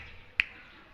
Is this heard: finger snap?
yes